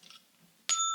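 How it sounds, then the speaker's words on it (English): A single bright bell chime rings out clearly after a faint, quiet stretch, its pure tones sustaining and slowly decaying to the end. "where you could program what chime you want, or if you want it to be a beautiful bell"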